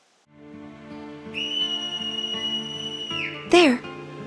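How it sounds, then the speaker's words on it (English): A long, sustained whistled tone from a Final Fantasy X Mobius cutscene rises over a steady musical score, followed by a brief, sharp high chirp near the end. "There's the whistling."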